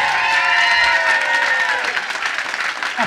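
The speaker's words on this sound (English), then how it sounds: "let's have a big round of applause for these two rugged warriors" An audience at an amateur boxing night applauds loudly, with dense clapping and a few cheers that fade slightly toward the end.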